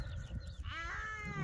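A ewe that has just given birth to twin lambs gives a single clear, close bleat in a livestock pen over low background noise.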